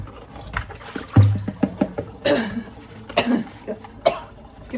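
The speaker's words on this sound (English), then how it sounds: "You're gonna be coughing up a storm," Someone handling hot Calabrian chili peppers coughs repeatedly from the fumes, a close, irregular string of harsh coughs and throat clearing over a few seconds.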